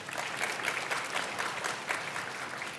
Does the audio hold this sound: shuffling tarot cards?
no